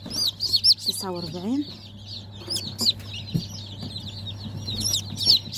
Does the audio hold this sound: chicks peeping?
yes